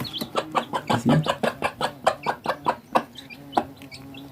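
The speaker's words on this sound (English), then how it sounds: "Now the chicks are coming in to share." A mother hen and her chicks cluck in a steady, close run of short rhythmic calls on a farm, with a brief spoken remark partway through.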